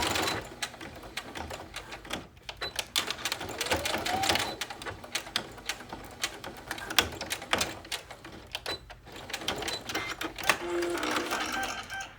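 A sewing machine stitches strap attachments onto a baby top made from old basketball shorts, running in quick mechanical bursts with short pauses as the seam goes forward and back.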